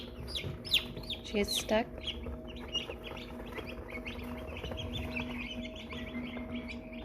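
Baby American Bresse chicks chirp in a continuous busy chorus of high peeps and cheeps close by, with a few louder calls standing out and a person briefly speaking over them.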